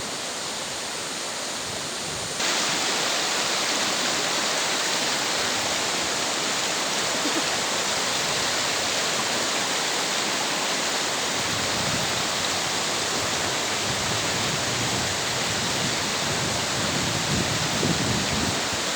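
A river rushes in a steady, loud, broadband roar around a broken water pipe lying in the middle of the stream, the flow continuous and close for the whole stretch.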